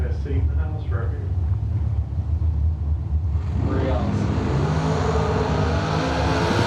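Drag race cars launch hard off the starting line at a fall drag racing event, their engines building into a loud, rising roar that swells over the second half as they pull away, with crowd and ambient noise beneath.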